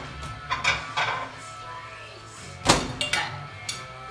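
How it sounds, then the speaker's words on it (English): Warmed dinner plates are taken out of a microwave in a home kitchen: a few ceramic clinks and knocks, then a sharp thunk like the microwave door, close and moderately loud with no talking. "I'm going to grab my plate out of the microwave because I warmed them up"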